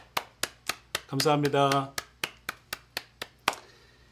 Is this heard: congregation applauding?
yes